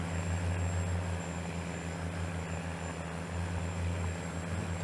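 An 800-horsepower tractor engine in Farming Simulator 19 drones steadily at a loud, constant low rumble with no pauses.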